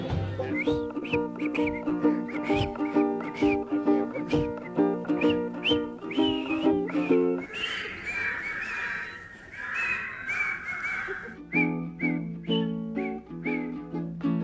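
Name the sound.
whistling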